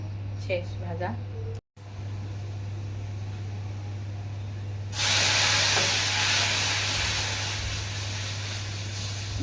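Lentils frying in hot oil with onion, chili and garlic in a home kitchen: a loud, steady sizzle bursts in halfway through and holds, over a low electrical hum, after a brief voice at the start.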